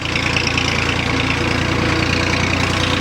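A steady, loud tractor engine idles close by with a low, chugging throb and no pauses, running alone without any voices.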